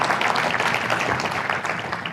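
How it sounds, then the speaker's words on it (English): An audience at a landscaping business conference applauds Corey, a steady wash of many hands clapping throughout, fairly loud and even with a slight fade near the end. "big round of applause for Corey"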